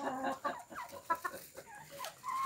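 A hen bred from a guinea fowl and a rooster clucks in a quick, uneven series of close, soft calls, ending on a thin rising note.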